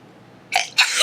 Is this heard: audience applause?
no